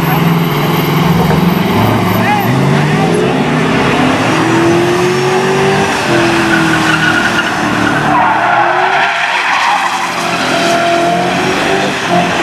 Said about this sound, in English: SS truck coming in.